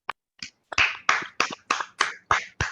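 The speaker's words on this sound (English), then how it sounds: "we need to give Roishetta a round of applause" Participants in an online meeting clap, a sparse series of about nine crisp, separate hand claps at a quick, slightly uneven pace, close and dry, with no talk over them.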